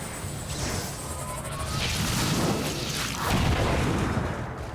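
Video game explosions: muffled booms and crashing bursts roll together in a dense, continuous wash of noise at moderate loudness, with no talking.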